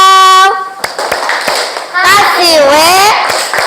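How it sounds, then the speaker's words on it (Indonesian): A classroom of children does a rhythmic chanted clap cheer, with sharp hand claps spaced between loud, close young voices singing out the call together. "Mari kita kasih tepuk wow."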